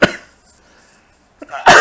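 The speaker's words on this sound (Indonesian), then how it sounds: "Wah, jadi batuk." A single sharp cough bursts out at the start, followed by quiet, then another forceful cough-like burst near the end.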